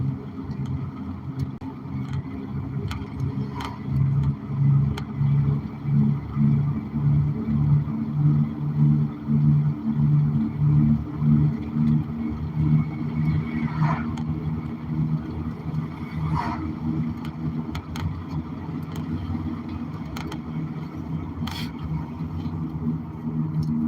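Cars pass on a road in the morning: a continuous engine rumble that swells as vehicles go by, then settles back into a steady background drone.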